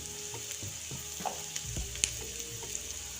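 Chopped garlic fries in a pan alongside onions and whole spices for restaurant-style paneer do pyaza, giving a soft continuous sizzle with scattered spoon taps and stirring knocks, close by and without speech.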